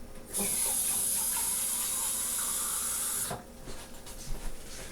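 Water is swished back and forth inside emptied tomato soup cans to rinse them, about a cup for the cans, heard as a steady, close, hissing wash that runs for about three seconds before cutting off.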